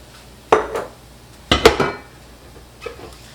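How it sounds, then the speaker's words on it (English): A ground beef and rice filling for cabbage rolls being mixed in a large bowl: three separate clattering scrapes of a utensil against the bowl, the middle one longest, with quiet pauses between. "put your rice into a large bowl, your ground beef"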